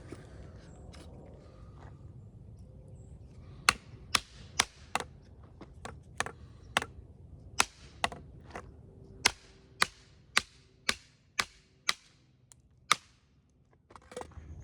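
Dogwood being split with a dogwood baton outdoors: a steady run of about fifteen sharp, loud wooden knocks, roughly one every half second to second, with no talk.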